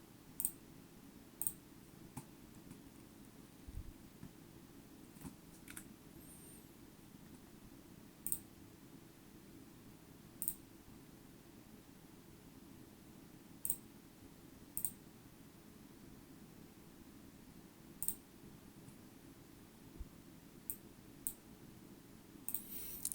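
Single computer mouse clicks, faint and sharp, spaced a few seconds apart over a steady low room hum.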